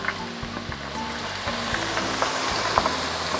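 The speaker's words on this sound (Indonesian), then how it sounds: "Bawang merahnya setelah diiris tipis saya goreng ya" Thinly sliced shallots fry in hot oil over medium heat, a steady close sizzle with occasional crackles and stirring clicks, no talk.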